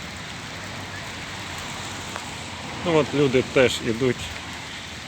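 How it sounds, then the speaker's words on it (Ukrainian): Steady rain falls over a street in Kyiv during a city walk, a soft even hiss throughout, with people talking nearby partway through. "Ми в дожді."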